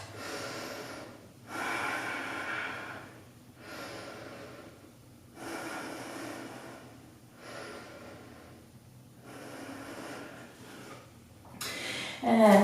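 Slow, deep breathing in child's pose during a yoga stretch: about five long, soft breath cycles with quiet pauses between them, close and calm, with no talk.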